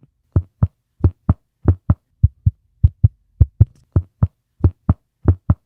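A very thin experimental Protoflight test-flight disc golf disc is tapped in quick pairs, about eight double taps, each a light hollow knock, close and clear with no talking.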